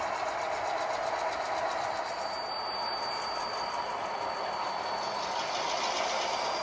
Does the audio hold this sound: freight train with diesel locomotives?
yes